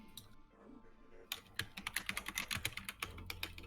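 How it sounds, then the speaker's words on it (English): Rapid clicking of keys on a computer keyboard, a quick burst of typing close to the mic after a short pause, with no one speaking. "You like my typing?"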